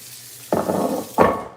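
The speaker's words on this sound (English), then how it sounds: "I'm gonna rinse this off. This catfish" Two short bursts of running tap water splash over raw catfish being rinsed, each a loud gush about half a second long with a brief gap between, no talking.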